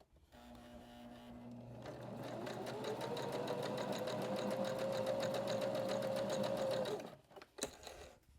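Sewing machine running a zigzag stitch along a fabric edge, a close rapid rhythmic chatter that starts, speeds to a steady whirring hum and then stops, followed by a few faint clicks.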